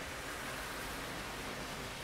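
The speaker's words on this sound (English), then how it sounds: "All you can hear is the sound of the waterfall from down below" A waterfall below the balcony of a Boca mansion sends up a steady, even rushing roar. The broadband hiss continues unbroken and alone, with no voices over it.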